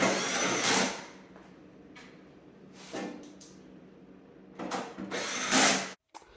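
A power tool drives screws back into a GE Profile Opal 2.0 ice maker: several short, fairly quiet whirring bursts of varying length with pauses between them, ending with a sharp stop.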